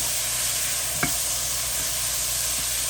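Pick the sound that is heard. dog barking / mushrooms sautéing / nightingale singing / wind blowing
mushrooms sautéing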